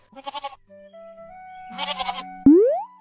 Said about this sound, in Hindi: तभी वहाँ पर एक बकरी आई।